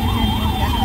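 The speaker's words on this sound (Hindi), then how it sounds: "एम्बुलेंस जा रही है" An ambulance siren wails steadily on a city street near Shivaji Nagar in Bangalore, a loud rising and falling tone over traffic rumble, with no talk.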